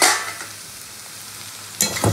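Vegetables frying and being stirred in a pan, a hissing sizzle with a couple of louder scraping stirs near the start and end, close and alone.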